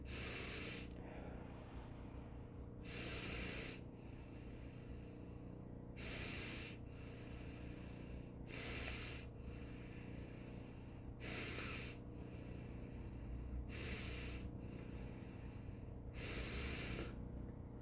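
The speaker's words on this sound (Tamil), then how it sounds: "இடப்பக்கத்தால் மூச்செடுத்து ஒரே பக்கத்தாலேயே விடுங்க." Slow breathing through the left nostril only, repeated airy nasal inhales and exhales at a regular, unhurried pace, close and fairly quiet with no talk.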